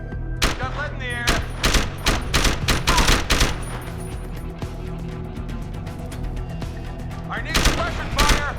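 Gunfire in Deus Ex: Human Revolution: loud, sharp bursts of shots in quick succession, pausing in the middle and then resuming, with voices shouting under the shooting.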